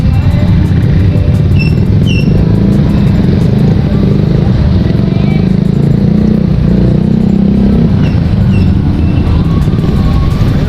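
Congested road traffic during a fiesta reroute, with motorcycle and car engines idling and revving nearby alongside a few high horn toots, while people talk in the background.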